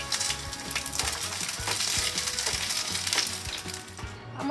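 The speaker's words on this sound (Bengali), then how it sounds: "আমার কাবাবগুলো ভাজা হয়ে গেছে" Hariyali kebabs fry in hot oil for a kebab roll, giving a loud, continuous crackling sizzle with bright spattering pops and a few low knocks from stirring or turning, heard alone without speech.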